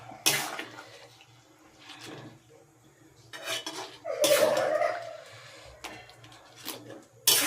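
Meat curry is stirred in a pot over a medium flame, producing intermittent clanks and scrapes of a utensil against metal. The bursts come in several short clusters separated by quiet pauses.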